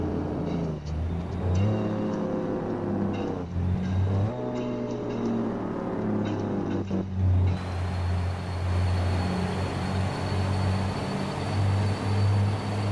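A Mack B61 truck in American Truck Simulator with a deep diesel engine drone that revs up through several gear changes, each followed by a rising pitch, then settles into a steady low cruising rumble.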